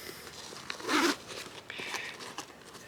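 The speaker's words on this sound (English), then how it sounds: "you unzip the front and the back vents" Zippers on the front and back vents of a Klim Badlands Pro motorcycle jacket are pulled open, a close, quick ripping rasp followed by a longer, softer run of zipping.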